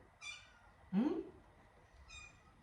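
A cat gives a few short meows: a faint high call, then a louder, rising meow, and another faint high call shortly after, all close by in a quiet room.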